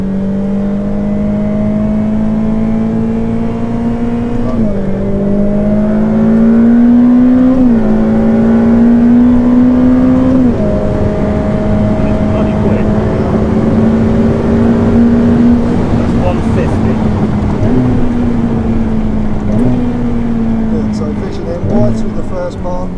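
A Ferrari F8 Tributo's engine drones loud and steady at high speed, its pitch climbing through each gear and dropping briefly at every shift. Someone talks over it throughout.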